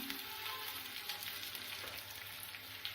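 Garlic cloves and curry leaves frying in hot oil with popping mustard seeds, a steady close sizzle with a bright crackling texture running throughout, no voices.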